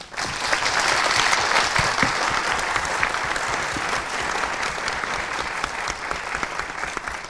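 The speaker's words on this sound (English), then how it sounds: "Round of applause." An audience at the Formula Student 2024 business plan presentation finals gives the presenters a loud round of applause, a thick wash of many hands clapping continuously for several seconds.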